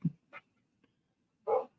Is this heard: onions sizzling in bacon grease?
no